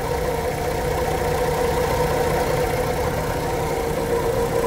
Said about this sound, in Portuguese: Escutem a melodia do motor